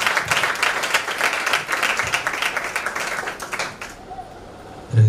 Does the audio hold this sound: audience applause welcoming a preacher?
yes